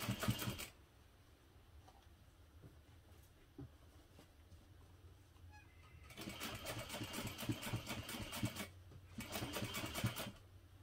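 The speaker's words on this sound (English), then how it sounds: "I'm going to sew now directly along the line that I marked." A sewing machine stitches along a marked line on a hip pouch, a brief burst at the start, then quiet handling, then two longer close runs of rapid whirring separated by a short pause.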